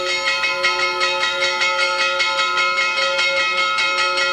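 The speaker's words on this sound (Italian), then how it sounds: "dopo l'applauso sentiamo ancora le campane" Church bells ring in a continuous peal at a human-chain commemoration for Falcone in Italy, with steady overlapping strikes and a sustained ringing tone, loud and unbroken throughout.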